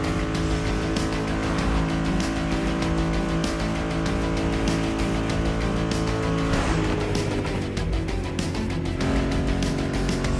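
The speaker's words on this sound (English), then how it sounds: "A classic for you from a very famous German brand, the BMW Z4" A BMW Z4 M40i roadster drives steadily in The Crew Motorfest racing game, its engine droning loud and continuous throughout with a pitch shift partway through and no voices.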